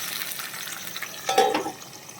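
Potato pieces fry in a pan with a soft, continuous sizzle that swells into a brief louder crackle midway, close and fairly quiet, with no voices.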